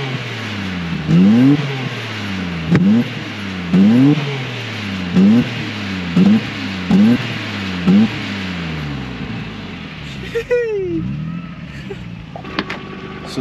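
A 1994 Nissan Skyline GT-R R32 accelerating through repeated gear shifts, the engine rising and dropping in regular revving sweeps, close and loud, before settling into a steadier cruising drone.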